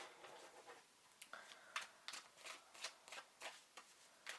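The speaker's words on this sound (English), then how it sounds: "These cards are so beautiful, but they are so stiff to shuffle." Stiff tarot cards being shuffled up close: a quiet run of crisp riffling bursts, growing into an evenly spaced series of sharp flutters, with no voices.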